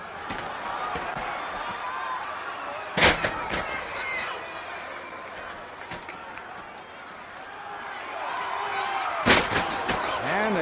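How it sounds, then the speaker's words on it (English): Two loud body slams onto a wrestling ring mat at a 1960 professional match between Buddy Rogers and Killer Kowalski, sharp thuds standing out over steady crowd noise and commentary. "And they take turns at body slams."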